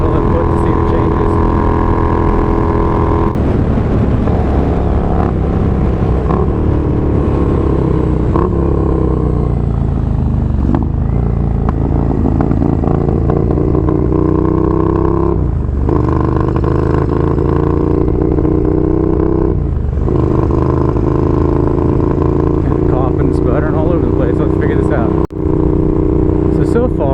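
A Honda CX500 motorcycle engine drones loudly while riding, its pitch rising and falling with throttle changes and stumbling now and then as it cuts out, with a rider talking over it.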